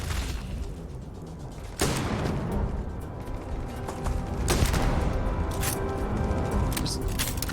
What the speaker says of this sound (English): God, I love the satisfaction of a shotgun.